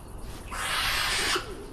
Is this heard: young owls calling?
yes